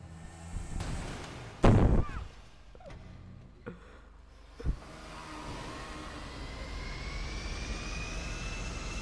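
An airplane engine in a video game roars with a rising whine and rumble, preceded by a few sharp thuds and bursts, growing steadily into a sustained drone.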